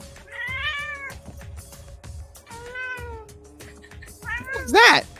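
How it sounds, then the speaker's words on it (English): A cat in a video game meows three times in drawn-out, wavering cries, the last louder and more strained, over a low background score and steady speech-like sounds. "I think I heard a cat somewhere over there."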